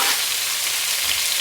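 The white parts of green onions fry in a pan for an egg roll in a bowl, a loud, close, unbroken sizzle over a short moment.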